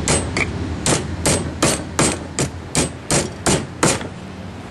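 Steady hammer blows strike nails into wood while building a deck roof, about a dozen sharp, loud knocks in an even rhythm, close by.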